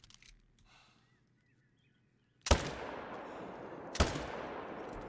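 Two loud rifle shots ring out in the hunting game theHunter: Call of the Wild, each a sharp crack followed by a long rolling echo across open terrain, after faint outdoor ambience.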